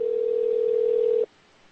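A telephone ringing tone plays as one steady, loud tone for just over a second during a call, then cuts off to faint line noise.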